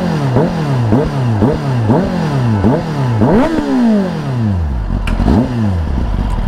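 A motorcycle with a decatted stock exhaust revs repeatedly nearby, about six sharp throttle blips rising and falling in quick rhythm before a longer rev dies away, then one more blip, with no talking.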